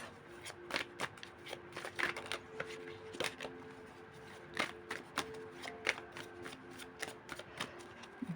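Playing cards being shuffled and riffled in short crisp bursts, close and fairly quiet, with light taps between shuffles.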